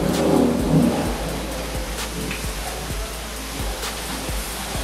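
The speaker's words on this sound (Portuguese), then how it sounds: "aqui tá começando uma chuva da Austrália" Steady heavy rain begins over an outdoor workshop where a moped engine is being assembled, a dense continuous hiss with a few low thuddy knocks and a brief rumble near the start, no speech.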